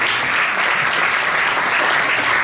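Dense applause from an audience at a children's rights anniversary arts event, a steady wash of many hands clapping without letup for the whole stretch.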